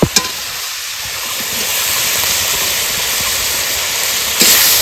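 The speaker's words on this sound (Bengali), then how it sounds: "তো ভেজে নেব। প্রথমে দিয়ে দিচ্ছি আদা, পেঁয়াজ কুচি, টমেটো কুচি, এবার দিয়ে দেবো কাঁচা লঙ্কা আর ধনে পাতা।" Ginger, chopped onion, tomato, green chili and coriander leaves sizzle in a pan, a steady broadband hiss with a few stirring knocks at the start and a brief louder burst near the end, no talking.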